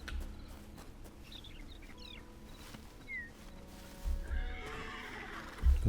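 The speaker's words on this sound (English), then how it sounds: "There's a horse." A horse whinnies twice in the video game Hytale over a steady outdoor ambience, with faint bird calls and a soft thump near the end.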